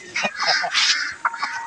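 Close, busy poultry clucking and squawking, several birds calling over one another in short bursts.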